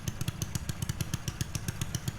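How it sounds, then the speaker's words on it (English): A lawn mower engine runs close by with a rapid, even chugging beat of sharp repeated pulses at a steady pace, with no other sounds over it. "And the mower turns on and it sounds awesome."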